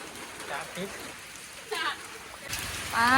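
Steady rain patters and hisses while riding through a downpour, with broadband wash rising louder near the end and a voice faintly audible underneath.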